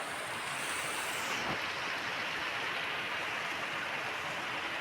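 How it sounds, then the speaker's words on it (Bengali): Floodwater pouring in through a gate on a rainy day, a dense continuous rushing roar with no breaks, steady and fairly loud, no voices. "সমানে অনর্গল জল ঢুকছে গেট থেকে।"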